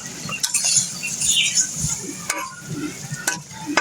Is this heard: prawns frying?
yes